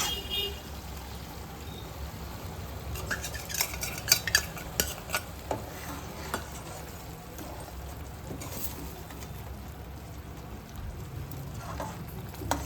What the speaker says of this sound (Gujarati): હવે આમાં ખાલી મસાલો નાખી છે.